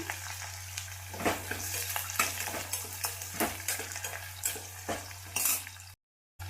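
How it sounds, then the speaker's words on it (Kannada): Pigeon peas, potatoes and eggplant being stirred in a frying pan, with a steady sizzle and repeated scraping clinks of a spoon against the pan, ending in a brief dropout. "ಆಲೂಗಡ್ಡೆ ಹಾಕಿದ್ದೀನಿ ಬದನೆಕಾಯಿ ಹಾಕ್ತಾ ಈಗ ಚೆನ್ನಾಗಿ ಮಿಕ್ಸ್ ಮಾಡ್ಕೊಳ್ರಿ"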